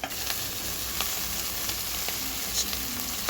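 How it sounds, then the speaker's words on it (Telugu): Chopped onion, green chili, coriander and mint fry over high heat in a pan for chicken soup curry. A constant hissing sizzle runs throughout, with light scattered ticks and no voices. "స్టవ్ పెద్దగా పెట్టుకొని ఎర్రగా ఫ్రై చేసుకోవాలి"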